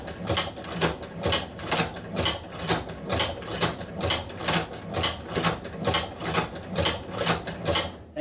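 An Outlaw manual leather sewing machine stitches through leather in a steady rhythm of about fifteen evenly spaced mechanical clacks, close and moderately loud, with no talking.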